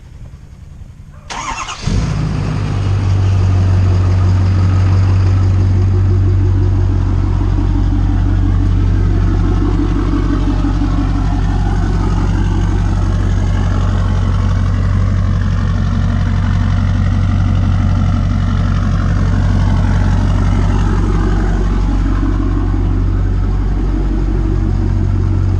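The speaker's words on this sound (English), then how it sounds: "we got the old smoky Kawasaki Bayou warming up" An old, smoky Kawasaki Bayou ATV and a truck warming up together. After a startup burst, a loud, close, steady low engine idle drones on continuously with no talking.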